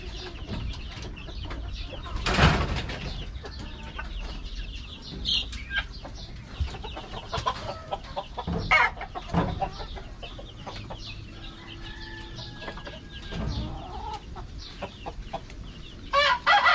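A Rhode Island rooster crows loudly once near the start, followed by scattered clucks and soft farmyard bird calls, with another burst near the end.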